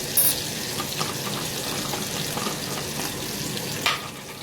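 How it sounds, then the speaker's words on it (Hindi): Nigella and cumin seeds fry in hot oil with a close, steady crackle. Light stirring knocks and a louder clatter come near the end. "थोड़ी सी कलौंजी, 1 चम्मच छोटा, 1 छोटा चम्मच कलौंजी, ये मैंने कलौंजी डाल दी। और जनाब जीरा, 1 छोटा चम्मच जीरा,"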